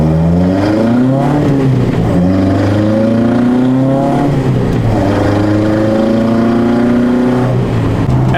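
A Toyota Hilux pickup engine runs loud and close, revving up and down in repeated rising and falling sweeps with no voices over it.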